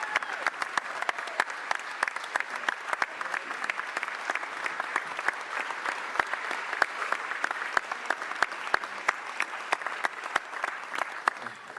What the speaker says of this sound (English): I want you to join me in giving a huge round of applause